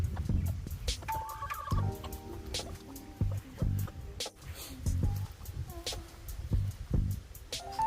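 Tongan chickens, three-quarter Tongan and one-quarter layer, cluck and squawk in a scattered run of calls at close to moderate range, mixed with faint background noise and no talk.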